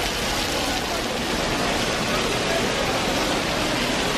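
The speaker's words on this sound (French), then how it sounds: "Et il pleut au taquet." Heavy rain pours down on the city streets around Dongdaemun in Seoul, a dense, unbroken hiss of falling water that stays loud and even throughout.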